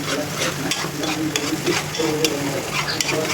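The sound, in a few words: khoa roasting in a pan for mango barfi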